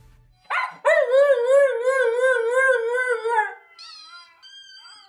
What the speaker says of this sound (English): it was titled Siberian Husky Howling, and yes, you guessed it, it was a video of his dog howling.